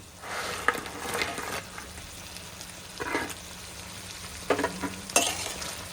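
Chicken tossed into a boiling Manchurian sauce, a soft, continuous sizzle and bubble broken by several louder scraping stirs of a utensil against the pan.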